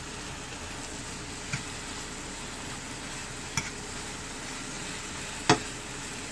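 Shrimp sizzling in a pan while being stirred, a faint steady frying hiss with three brief clicks of a utensil against the pan, quiet and without speech.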